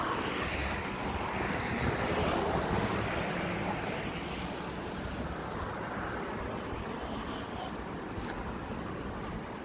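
Steady, broad rushing wind noise buffets the microphone outdoors in Beauharnois, throughout, with a constant low roar and no clear pauses.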